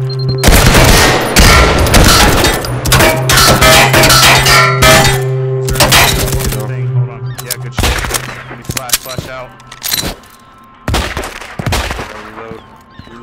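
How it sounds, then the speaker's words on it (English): Loud, close gunfire in the video game Firewall Zero Hour, with dense rapid bursts early on, then sparser single shots and short volleys spaced apart, over a steady in-game hum. "Shots fired to your right."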